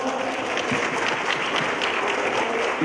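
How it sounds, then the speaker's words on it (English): A room of students and staff gives a steady round of applause for the transportation department at a student council advisory meeting, continuous and moderately loud. "Let's give our transportation department a great round of applause"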